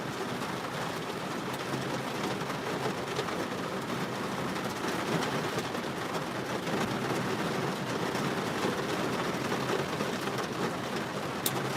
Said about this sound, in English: I'll have to talk pretty loud over this rain.